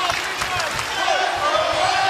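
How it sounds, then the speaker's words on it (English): Fans at a 2010 Hawai'i versus New Mexico State women's college volleyball match cheer in a continuous, loud arena roar, with a faint thump in the mix and a commentator speaking over the noise. "Crowd coming alive."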